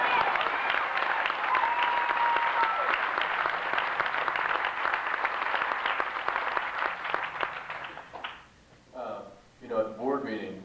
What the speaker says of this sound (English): go ahead, clap